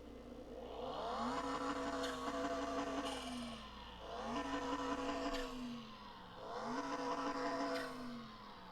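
A modified JDM car engine in Car Mechanic Simulator 2021 revs up three times in rising, sustained sweeps, each climbing and then dropping back, loud and close with no talk.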